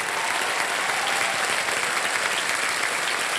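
Studio audience applause on the KBC game show, a steady dense wash of many hands clapping at once, loud and continuous with no voices over it.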